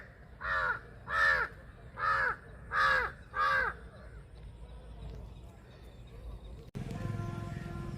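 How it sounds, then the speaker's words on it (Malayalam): A crow caws five times in a quick, evenly spaced series, loud and close, in a green Tamil village with cows nearby. Quieter outdoor ambience follows, then a brief jump in background noise. "ഒരു കാക്ക, അവനും വേണം എന്തെങ്കിലുമൊക്കെ."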